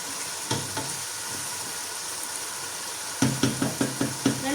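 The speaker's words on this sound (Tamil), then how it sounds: "சில்லி சோஸில் ஒரு கரண்டியும் சேர்த்து உப்பும் சேர்த்து நல்லா இது வதங்கி கொண்டிருக்குது" Vegetables and chicken sautéing in a pan with chili sauce and salt for chicken noodles: a steady sizzle broken by a few spatula scrapes, then a quick run of rhythmic stirring strokes near the end, close by.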